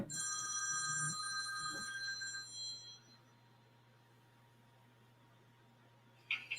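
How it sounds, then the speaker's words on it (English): A telephone rings in a steady, bright electronic trill that repeats for a few seconds and then stops, leaving a quiet room with a low hum and a short click at the end. "Person keeps bloody ringing"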